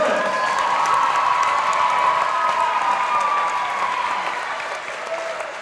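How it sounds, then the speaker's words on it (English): Crowd in a school gym applauds a senior player at a girls high school basketball game, steady clapping with light cheering that fades a little toward the end. "Ladies and gentlemen, round of applause"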